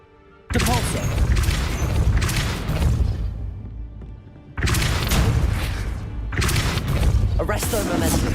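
Heavy booming blasts from the Depulso spell in Hogwarts Legacy, with two loud, sustained surges of magical force and crashing impacts, broken by a short lull and closely followed by another burst.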